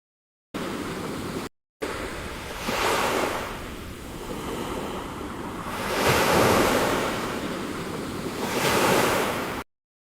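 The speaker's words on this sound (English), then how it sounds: "A peaceful beach during sunset." Synthetic waves on a peaceful beach at sunset: steady broadband surf wash that swells and recedes in slow surges, with a brief dropout near the start and no voices.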